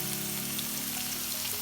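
Onions and garlic sizzle in hot oil in a pan for red amaranth greens, a dense, steady crackling fry heard close up with no voices.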